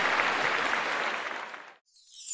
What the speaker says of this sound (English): Everybody give a big clap to Dorothy!